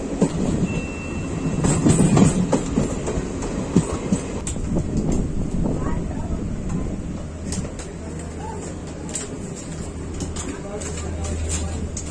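A train rumbles through Janiya railway station on the Jodhpur to Barmer route, with a low engine drone, rattling and station bustle; people talk nearby and birds chirp faintly.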